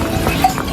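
Horse hooves clip-clop on the stone pilgrim trail to Kedarnath, a few light steps heard at close range against steady outdoor background noise.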